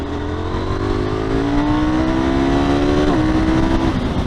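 A KTM 990 Duke motorcycle engine pulls hard under acceleration, its loud steady drone rising in pitch, then dipping briefly with a quick short-shifted gear change before climbing again, heard close and without talk.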